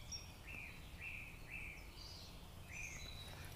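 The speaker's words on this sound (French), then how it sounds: "Des oiseaux." Birds singing in a forest, several thin high chirps and short warbling phrases repeating in loose succession over a steady low background hum, moderately distant and faint.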